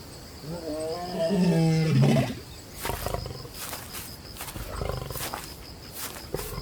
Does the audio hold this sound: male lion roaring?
yes